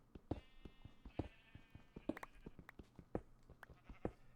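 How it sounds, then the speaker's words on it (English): Sheep bleating in Minecraft, a string of short bleats repeating roughly every second at moderate loudness, with no talk over them. "Those sheep are already starting to really annoy me."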